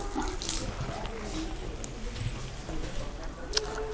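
Water is poured or drained out of a container to lower its level outdoors in Odisha, a steady splashing trickle running throughout with a brief sharper splash near the end.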